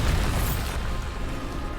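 A Bombarda spell explosion from a Harry Potter video game bursts out as a loud, dense boom with a rumbling, noisy tail that fills the short moment, with no voice over it.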